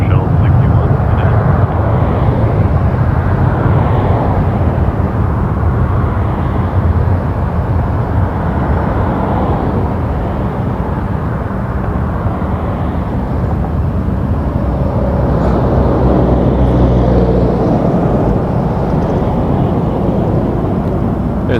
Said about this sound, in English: There's a MAX 8 coming in,